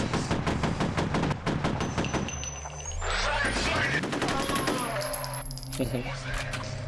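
Rapid automatic gunfire in the F.E.A.R. video game, a steady rattle of evenly spaced shots over a dense backdrop of game noise, with ringing metallic clinks and rising tones later in the burst.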